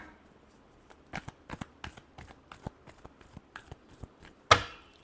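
Tarot cards being shuffled by hand, a quiet run of soft irregular riffles and taps at close range, ending in one sharper snap as the deck is squared, with no voices.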